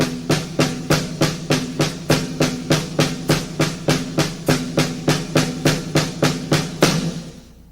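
Drum rudiment variation of the paradiddle, beginning with the double stroke, played as a rapid, even stream of crisp, loud strokes in a steady repeating pattern that stops at the end.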